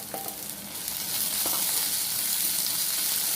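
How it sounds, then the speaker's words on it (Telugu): Boiled drumstick leaves drop into a hot pan of fried spices and sizzle steadily, a bright continuous hiss that grows fuller, with a few faint clinks of stirring early on. "ఇప్పుడు మనం ముందుగా ఉడికించి పెట్టుకున్న మునగాకుని వేసుకుందాం"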